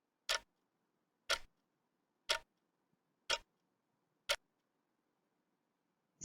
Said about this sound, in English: like a ticking clock.